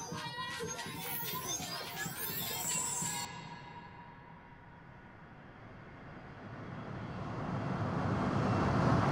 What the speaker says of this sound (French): Nous venons d'atterrir Dakar.